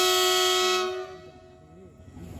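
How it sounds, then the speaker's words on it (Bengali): A train entering a station blasts its horn loudly for about a second, then the tone fades away into the quieter, rumbling station background. "আরও একটা ট্রেন ঢুকছে, আর অনেক জোরে হর্ন মারতে মারতে ঢুকছে,"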